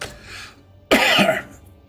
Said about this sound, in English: What is up with the productive cough?